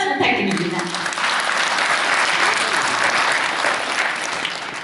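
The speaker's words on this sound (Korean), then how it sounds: "큰 박수 부탁드립니다" An audience applauds after an academic lecture at a Confucian scholars' New Year gathering in Gyeongbuk, Korea. The clapping is dense and sustained, moderately loud, and holds steady for several seconds.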